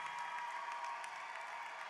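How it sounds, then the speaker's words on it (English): Audience at a high school graduation ceremony applauds in a steady, fairly distant wash of clapping with no voices on top. "Give your family, close friends, your loved ones a round of applause"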